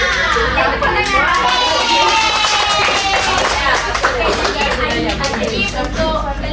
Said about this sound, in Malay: Yang tepuk tangan